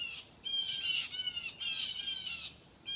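Several mixed bird species squawk harshly in repeated overlapping bursts, mobbing a snake up in a tree; the calls are fairly distant and moderately loud with short gaps between them.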